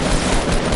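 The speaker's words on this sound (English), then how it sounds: "Can I start shooting it, Kelly?" Dense, continuous gunfire in Fortnite, a sustained burst of rapid shots with no talk over it.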